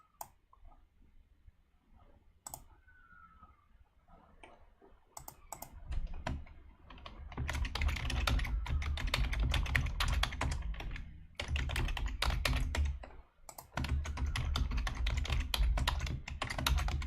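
Steady, rapid typing on a computer keyboard while entering a service request, close clicks running in long bursts after a few scattered key taps, with short pauses between runs.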